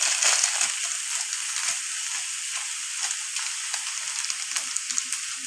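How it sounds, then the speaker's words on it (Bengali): Rice and vegetables fry in a pan for vegetarian khichuri, giving a steady, close hiss of sizzling oil with small crackles and occasional stirring scrapes throughout. "সবজির সঙ্গে চালও ভেজে নিচ্ছি।"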